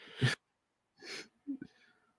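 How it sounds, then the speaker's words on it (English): A single close, sharp burst of breath that sounds like a sneeze, followed by a second breathy burst and a short vocal sound, with quiet gaps between. "I had a sneeze."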